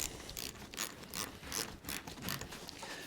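A ratchet clicks in repeated short bursts while undoing a bolt on the rear roller of a Jimmy Magna 250 mower, close and fairly loud with a rhythmic pawl chatter and no speech.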